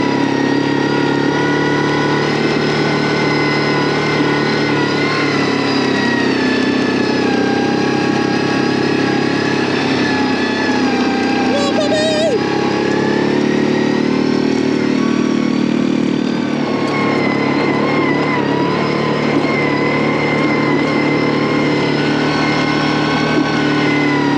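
A tractor engine drones steadily and loudly throughout, a constant mechanical hum with a brief change in pitch around the middle, no voices.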